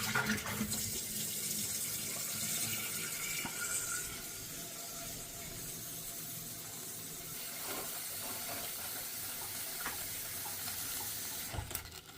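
Water poured from a tap into a cooking pot over sweet potato pieces, a steady continuous rush and hiss lasting throughout, close and moderately quiet, with a few small clinks.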